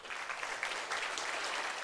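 Quiet, fairly distant audience applause greeting a three-member judging panel at a regional Slovenian pageant event, a brief even patter of many hands clapping.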